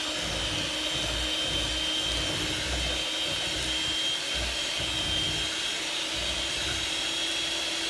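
An electric mixer whirs steadily through chocolate bourbon pecan cake batter, a constant motor hum with faint rhythmic thumps as the beaters work the loose batter, heard close.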